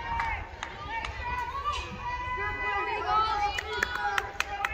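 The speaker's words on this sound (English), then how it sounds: "The crowd is noisy." A noisy crowd at a youth sports championship game, with children shouting, chattering and cheering in a reverberant gym alongside scattered claps and squeaky shoes.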